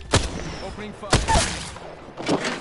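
Gunfire in Apex Legends at Skull Town: three loud, close bursts of shots about a second apart, each with a booming low thump and a fading tail.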